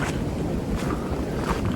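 Strong winter storm wind gusting at a cabin, a loud continuous roar and buffeting across the microphone with surging swells, no voices.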